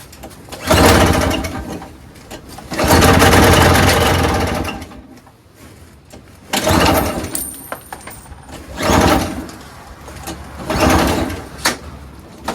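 A flooded Craftsman single-stage snowblower with a 5HP Tecumseh engine sputters to life in five loud bursts of rough running, each surge dying back to quiet between attempts.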